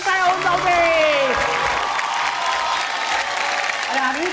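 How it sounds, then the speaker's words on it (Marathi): A studio audience at a Marathi women's game show bursts into loud, sustained applause that swells after a brief spoken line and keeps a dense clatter until a voice returns near the end. "एकदा जोरदार टाळ्या होऊन जाऊ दे."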